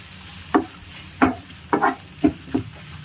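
Tomato cooking in a pan with ginger and garlic over medium flame, stirred with a utensil: soft sizzling background broken by about six distinct scraping stir strokes at irregular intervals, close up.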